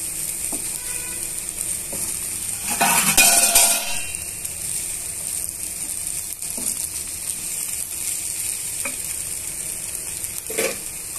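Potato pieces frying in a pan as they are mixed, a continuous sizzle with spoon scrapes and a louder clattering burst of stirring partway through, plus occasional light knocks.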